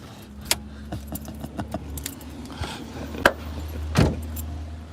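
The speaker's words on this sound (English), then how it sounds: "took the keys out, mate." A bunch of car keys jangles in several short metallic bursts, close by, with a louder shake near the end over a low idling hum.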